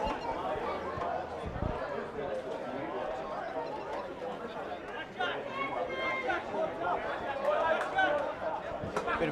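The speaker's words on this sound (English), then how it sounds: "Bit of a crowd gathering now. A few guys from the earlier games cheering on some of their mates" A crowd murmurs and chatters steadily at a rugby match, the President's Cup minor semi-final between Terrigal and Ourimbah, with a few voices rising now and then in cheers for the players.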